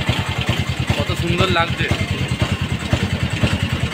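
A train locomotive engine idling at a station throbs in a fast, steady, close pulse, with a voice speaking briefly over it.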